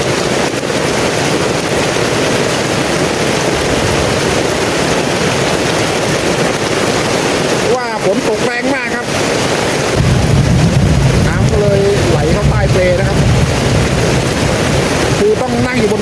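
Heavy rain drums steadily on a tent in a tropical rainforest, with gusting wind, as a constant loud wash that briefly thins before surging back stronger, with a voice speaking partway through.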